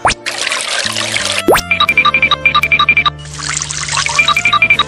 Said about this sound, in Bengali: এইবার এই পা ধোয়া জলগুলো বোতলে ভরে আমি ফুল গাছে দিব।